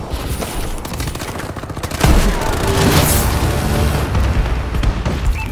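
A friendly bombing run in Call of Duty: Advanced Warfare strikes with a dense barrage of booming explosions and rapid crackling fire, swelling louder after a couple of seconds and continuing without a break.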